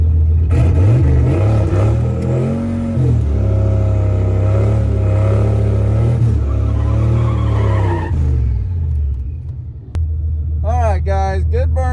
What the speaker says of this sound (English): Guys, good burnout here.